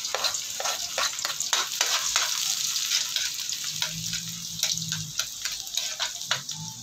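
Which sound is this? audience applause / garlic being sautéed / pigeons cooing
garlic being sautéed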